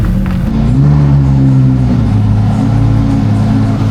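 A factory Lamborghini Huracan STO at a winter car meet: a loud, close engine drone with low tones that rise and fall as it revs, sustained throughout without any voices.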